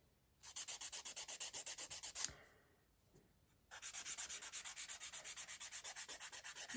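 A file rasps rapidly back and forth over the tip of a polygel nail, two bursts of quick, even strokes separated by a short pause, close and fairly quiet.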